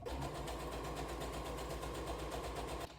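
Sewing machine stitching pyjama fabric, running at a steady fast rhythm with a dense mechanical whir and rapid ticking, close and loud, then stopping abruptly just before the end.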